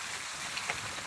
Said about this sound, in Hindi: अब यहाँ जान लिया इस तरह की बरसात कभी नहीं देखे रहे गुजरात में